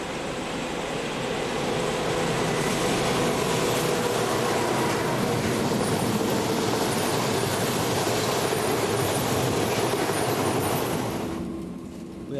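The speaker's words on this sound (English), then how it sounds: "this Class M41 powers the last summer-only service from Szombathely to Balaton-feneyves" A Hungarian Class M41 diesel locomotive hauls a summer-only passenger service of Austrian stock from Szombathely toward Balatonfenyves, giving a steady, loud rumble and wheel noise that runs throughout before fading away at the end.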